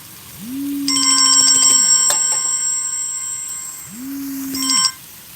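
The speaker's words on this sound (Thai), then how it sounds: "แถมมีสายเข้าเข้ามาอีกนะคะ" A phone rings with an incoming call in a home kitchen, its electronic ringtone playing as a clear, fairly loud melodic pattern that sounds twice with a pause between.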